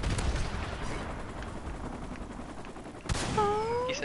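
Gunfire bringing down a helicopter in a video game: a dense rattle of shots fills the first three seconds, then a sharp burst gives way to rising whining tones.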